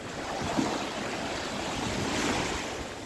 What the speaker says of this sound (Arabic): اسيبكم بقى تستمتعوا بجمال البحر